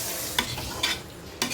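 Chicken stirred and fried in a pan: continuous sizzle with three sharp scraping stirs of the spoon at regular intervals, close and clear.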